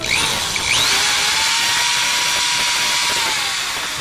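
A power drill whirs continuously at high speed, its pitch dipping slightly as it bites, loud and close throughout.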